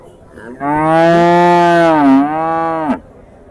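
A cow or calf at a weekly cattle market in Husnabad gives one long, loud, close moo lasting over two seconds, steady and then dropping at the end, with no talk over it.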